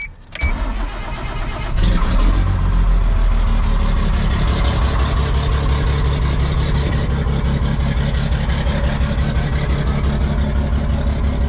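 A 1986 Chevrolet C10 short-bed truck with its exhaust cut off starts after a brief quiet moment, then idles loud and rough for the rest of the stretch, a deep, steady rumble alone up close.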